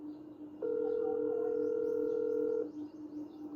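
A WhatsApp call rings out as a single steady electronic tone lasting about two seconds, clear and even over quiet room noise, then cuts off. No one speaks.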